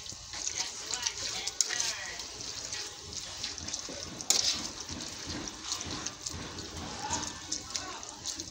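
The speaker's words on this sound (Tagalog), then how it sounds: "lalagyan natin ng tubig para maluto siya, parang lugaw" Water poured from a container onto leftover cooked rice in a pot to cook it like porridge: a close, splashing and trickling pour with small clinks of the pot, fairly quiet.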